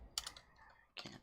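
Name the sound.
typing on computer keyboard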